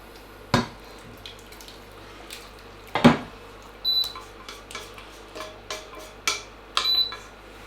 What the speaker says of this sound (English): I'll take this off the heat and transfer it all.